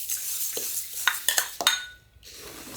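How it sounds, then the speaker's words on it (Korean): Salt being stirred into water in a container for dongchimi radish brine: several sharp clinks and scrapes against the container's sides in quick succession, close and fairly clear over a quiet background, no talking. "소금물을 이렇게 살살 녹여주세요"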